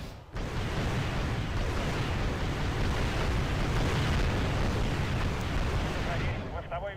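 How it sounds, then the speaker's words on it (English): Missiles slam into artillery pieces in the video game Wasteland 2, producing a loud, sustained roar of explosion and rumble that fills nearly seven seconds before trailing off at the end. "Just to be safe, I'm going to put a couple of missiles in the artillery pieces."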